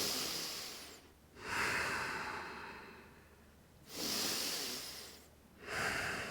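Deep, forceful breaths during a Tibetan Rites exercise session: three long hissing exhales separated by brief pauses, close and steady, with no talking.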